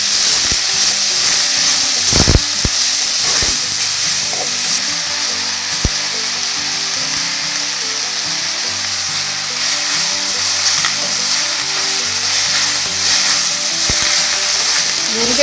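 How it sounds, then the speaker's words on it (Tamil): Drumstick leaves sautéing in a pan give a loud, steady sizzle and hiss, with a few sharp clicks and scrapes of stirring near the start and then continuous frying. "முருங்கைக்கீரை லேசாக வதக்கினா போதும்."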